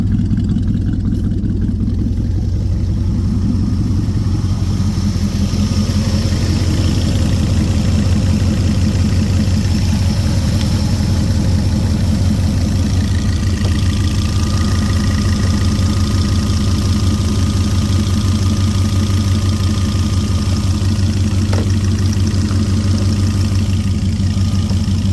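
A 1967 Chevelle idles steadily after a cold start on a chilly day, a loud, close, continuous low engine rumble with a slightly uneven beat and no talk.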